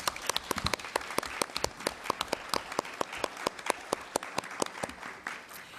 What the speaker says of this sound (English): let's give them a round of applause for their work